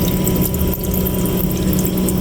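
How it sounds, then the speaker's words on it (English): Hot water runs steadily from an RV tap while the camper's plumbing is being winterized, a continuous close, loud rush and splash with no talking. "now we're gonna turn it to the hot water as well, and we're gonna get that going"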